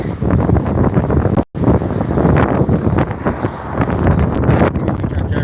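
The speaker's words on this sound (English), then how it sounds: "The wind is picking up." Strong wind blows outdoors in Jamaica and buffets the microphone with loud, continuous rumbling gusts. One brief dropout breaks the sound, and no talk can be heard.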